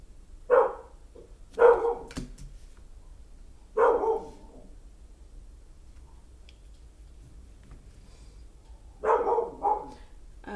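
A dog barks indoors in four separate bursts, a couple of them doubled, at moderate distance, with quiet room tone between them and no talk.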